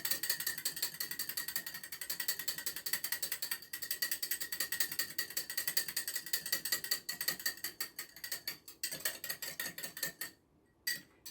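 Whisk beating egg and milk in a mixing bowl, a steady run of rapid, close clicking and tapping strokes that continues for most of the stretch and then pauses briefly near the end, with no talking.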